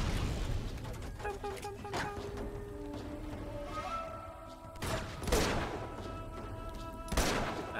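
Gunshots in Uncharted 2: Among Thieves, a few sharp separate shots spaced out over a steady game soundtrack, moderately loud.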